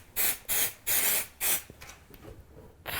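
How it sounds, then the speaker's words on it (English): Four short bursts of aerosol cooking oil spray hiss in a steady rhythm into a hypertufa pot mold, close and fairly loud, followed by a few fainter sprays. "let's spray this a bit here"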